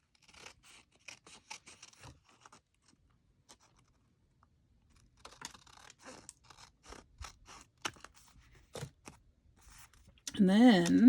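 Scissors trim paper scraps for card making in quiet, close sets of short snips and paper rustles, with a person speaking softly between the cuts and a louder noise at the very end.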